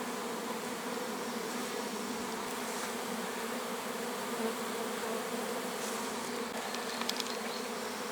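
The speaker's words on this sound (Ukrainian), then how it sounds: "Ось так бджола працює." Continuous buzzing of many bees at a hive, a steady droning hum close by with no pauses, a few brief clicks near the end.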